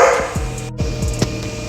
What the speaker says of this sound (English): I have dogs that you'll always hear barking in the background